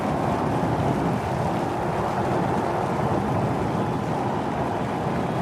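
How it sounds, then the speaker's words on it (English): A SpaceX Starship rocket lifts off with 33 engines lit, heard as a continuous, dense, roaring rumble that stays loud and steady throughout with no talk. "We have liftoff."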